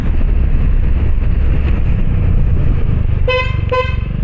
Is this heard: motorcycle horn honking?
yes